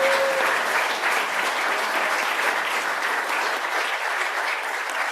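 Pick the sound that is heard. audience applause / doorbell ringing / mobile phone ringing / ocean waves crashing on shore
audience applause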